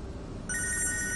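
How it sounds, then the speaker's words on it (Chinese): A telephone in a hospital office begins ringing about halfway through, a steady electronic ringtone that continues to the end over a low background hum, with no talking. "我接个电话。"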